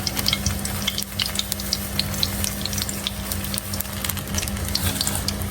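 One cup of semolina (suji) stirred into hot oil in a pan for halwa, giving a steady dense sizzle with crackling pops and scraping stir strokes throughout, close and fairly loud.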